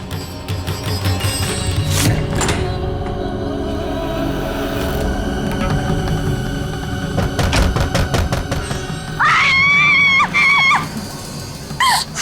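A child screams in a dramatic indoor TV-drama scene, with high wavering shrieks near the end over a busy background of music and sound effects.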